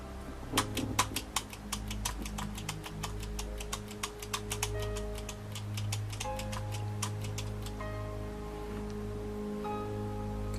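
Computer keyboard clicking at a desk, a rapid run of light taps and key presses, faint and close, over a steady low electrical hum, with a quieter stretch of scattered clicks near the end.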